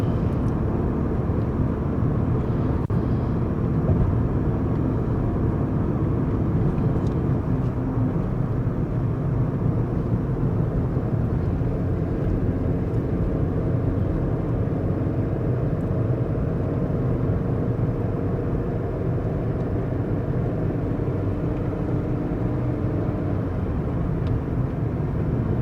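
A car engine drones steadily while climbing a hill on the drive from San Miguel de Allende to Guanajuato, its low rumble continuous and fairly loud with a gear change partway through.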